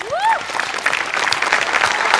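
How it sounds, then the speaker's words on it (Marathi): A studio audience at a Marathi comedy show breaks into loud, sustained applause, dense clapping filling the space after a short whistle-like sweep at the start. "सगळ्यात आधी खूप जोरदार टाळ्या वाजल्या पाहिजेत 8 डिपार्टमेंटसाठी"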